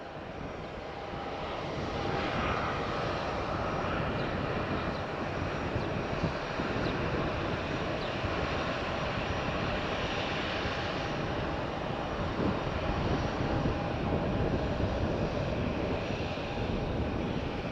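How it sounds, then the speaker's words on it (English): An airliner arriving from Dublin lands at Faro Airport, its jet engines making a loud, steady roar that builds after the first couple of seconds and holds throughout, with some wind noise on the microphone. "Next landing right there from Dublin"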